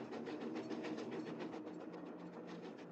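A train running in a Nancy Drew video game, a steady rumbling roll with a fast rhythmic clatter of wheels, moderately quiet and without voices.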